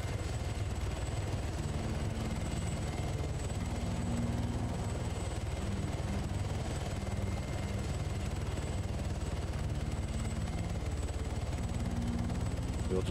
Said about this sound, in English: a float helicopter, like a waterborne helicopter